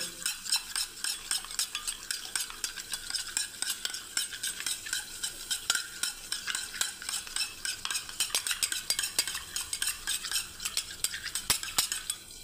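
Yogurt being beaten in a bowl for a potol curry, with rapid, continuous, close clicking and scraping strokes of a whisk or spoon in a fast even rhythm, with no talking.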